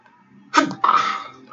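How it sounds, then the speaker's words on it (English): A single sharp sneeze during a live stream, loud and close to the microphone, a quick two-part burst with near silence before and after. "I sneezed."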